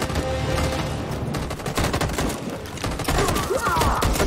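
Relentless machine gun fire in Detroit: Become Human, loud and dense throughout with steady rapid bursts layered over a wider battle din.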